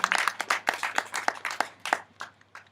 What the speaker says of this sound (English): yes, you can go ahead and give him an applause